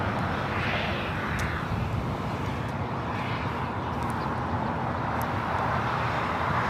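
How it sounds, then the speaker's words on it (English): An SAS Airbus A330-300 jet arriving from Copenhagen at LAX, a steady broad engine roar that holds loud and continuous throughout, with faint swells as it passes and no talk over it. "This is SAS coming in from Copenhagen, A330-300."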